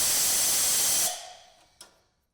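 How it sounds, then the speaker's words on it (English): Compressed air blasting dirt out of the spark plug wells on a Polaris RZR RS1, a loud steady hiss that cuts off, then fades, with one short puff shortly after. "blow any dirt or debris out of the spark plug wells with compressed air to prevent debris from falling into the cylinders"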